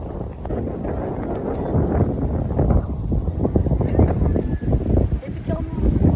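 Strong gusty wind buffets the microphone on an open outdoor hillside, a loud, rough rumble surging and dropping, with people talking faintly beneath.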